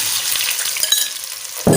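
Soaked semolina hits melted ghee in a pan for makhadi halwa, giving a short, bright, close-up sizzle with a brief clatter at the end.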